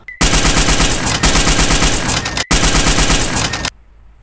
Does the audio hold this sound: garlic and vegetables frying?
no